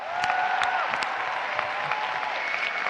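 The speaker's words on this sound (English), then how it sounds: "Yes, please, the final round of applause." Sustained applause from a crowd at a conference opening ceremony in Seville, dense and steady clapping throughout, with a few sharper claps standing out near the front.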